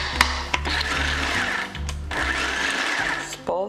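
A blender pulses chia and flax seeds in short, repeated motor bursts with brief gaps between them, close and fairly loud.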